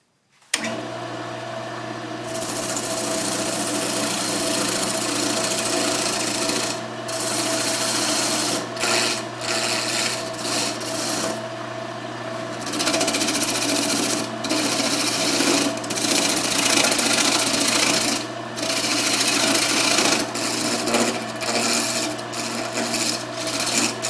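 A wood lathe spins a mahogany bird feeder blank while a tool cuts it down, giving a steady loud whirring hum with rough scraping texture and brief pauses, continuous for about twenty seconds without speech.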